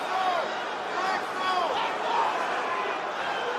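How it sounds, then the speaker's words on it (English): A large arena crowd at a UFC fight roars in a steady, loud wash of cheering and shouting that holds for several seconds, with a commentator's voice heard over it. "crowd's insane right now"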